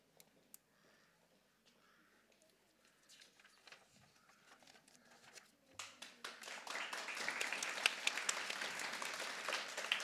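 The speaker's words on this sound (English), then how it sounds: "big round of applause to the pheasants" A quiet hall with faint shuffling gives way midway to applause from a school assembly audience at a grade 4 celebration, swelling quickly into sustained, lively clapping that continues to the end.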